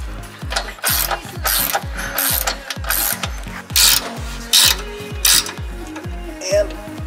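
A ratchet wrench tightens a nut on a Nissan 350Z being prepared for drifting, giving a quick steady series of close clicking strokes, each a short burst of ratcheting, repeated about a dozen times.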